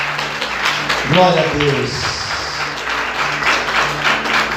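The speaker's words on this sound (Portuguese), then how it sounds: "Vamos aplaudir Jesus bem forte, queridos." A church congregation claps in a sustained round of applause, with a voice speaking over the clapping partway through.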